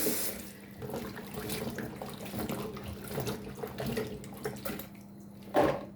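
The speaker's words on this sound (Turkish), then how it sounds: "Bamyalarımızı hızlı bir şekilde yıkayalım arkadaşlar" Okra is washed under a running kitchen tap. The water flows steadily and close by, with splashing and handling in the sink and a brief louder splash near the end, and no one speaks.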